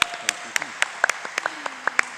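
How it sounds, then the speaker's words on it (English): Scattered claps ring out from an audience at a Tigray community panel event in Dallas, Texas, sparse and uneven rather than a full ovation, with faint background voices. "A bigger round of applause."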